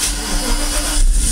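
A big 5-liter V8 car engine cranks and fires on a portable jump starter, a loud, close mechanical rumble that catches and swells into a rough rev.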